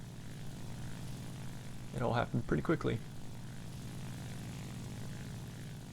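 A Kyushu J7W1 canard fighter's propeller engine in War Thunder drones steadily throughout, a continuous low hum under a brief burst of speech in the middle.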